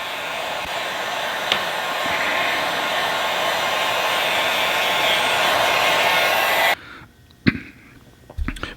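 A heat gun blows a steady, loud hot-air roar while shrinking heat shrink tubing over a butt connector on a motorcycle tail light wire, then switches off, leaving faint handling clicks and rustles.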